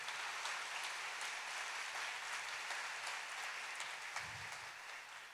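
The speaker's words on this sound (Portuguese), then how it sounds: "Vamos mandar um forte aplauso pelo Paulinho Figueiredo que está lá." Faint applause from a church family meeting audience, a steady patter of many hands that fades slightly toward the end, with no voices over it.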